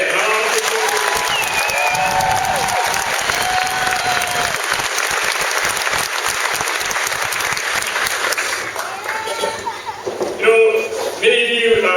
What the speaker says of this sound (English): how about a round of applause for the Maneuver Center of Excellence Band?